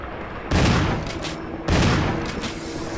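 Two loud gunshot blasts from the video game Resident Evil HD Remaster about a second apart, each with a sharp crack and a booming, decaying tail over a low background hum.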